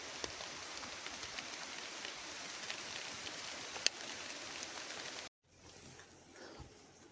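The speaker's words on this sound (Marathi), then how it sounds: "पाऊस कसा पडतो" Steady rain hisses softly with scattered drops tapping nearby, then cuts out abruptly and leaves a quieter, muffled patter.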